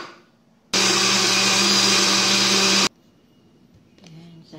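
A blender whirs loud and steady for about two seconds, blending peanuts, water, dragon fruit and banana into a smoothie, starting and stopping abruptly with quiet room sound on either side.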